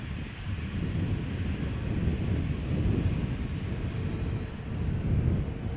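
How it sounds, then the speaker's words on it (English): A KLM Embraer 190 airliner at Schiphol gives off a continuous low engine rumble and roar, fairly close and steady, with some wind buffeting and no voices. "KLM flight 939 going to Glasgow, Embraer 190, 6 years old, first flight February 2018."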